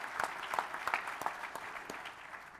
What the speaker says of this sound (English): So please, another round of applause for the Lions.